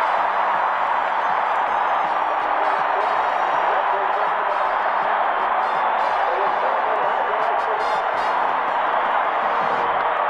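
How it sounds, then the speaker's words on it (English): A football stadium crowd roars continuously during a Washington Redskins 1982-83 season game, a dense, loud wall of cheering with scattered whoops that holds steady throughout. "Listen to this crowd."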